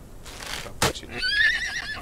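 A horse whinnies in the video game Outlaws of the Old West, one clear, loud, quavering neigh following a short thud, with no talk over it.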